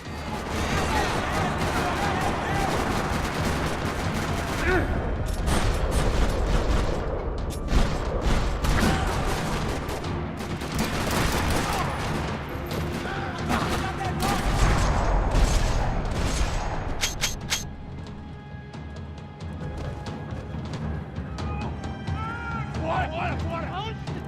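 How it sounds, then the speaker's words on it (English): Sustained gunfire rattles through a parking lot in the video game Max Payne 3, dense bursts and shots running loud and continuous with crashes and mechanical clatter, easing somewhat near the end. "Another parking lot rattling with gunfire."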